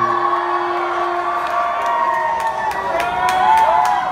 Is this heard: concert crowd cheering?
yes